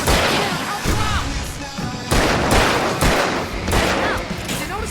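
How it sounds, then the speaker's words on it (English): Fireworks go off in the video game Alan Wake as a dense series of loud booming bursts and crackles, coming in several heavy waves mixed with game shouting. "I can set off more fireworks!"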